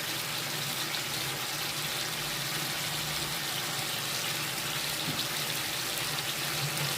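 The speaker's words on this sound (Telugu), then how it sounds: "కొంచెం వాటర్ వేసుకోవాలి" Water poured into a pot of chicken curry with blended fried onions, a steady, close splashing pour running evenly throughout with no voices.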